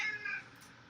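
Cat gives a single short meow that fades quickly, faint and close indoors, no talking.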